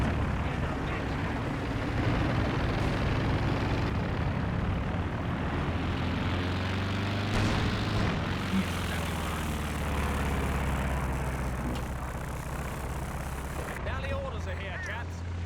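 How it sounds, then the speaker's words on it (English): Recon plane droning overhead in a Company of Heroes 2 2v2 match, a steady low propeller engine roar sustained throughout beneath battle rumble and a commentator's voice. "Recon plane up again from Rutra."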